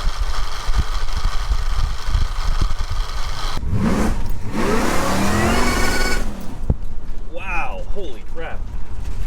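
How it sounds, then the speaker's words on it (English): A supercharged G-body car engine burbles at idle, then revs hard up to the rev limiter, a loud rising and bouncing roar close by, before dropping back; someone speaks over it. "That thing just went right to the rev limiter."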